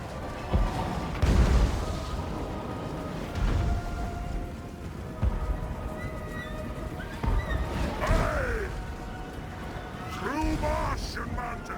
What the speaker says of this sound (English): All of these Hell Cannon shots coming in.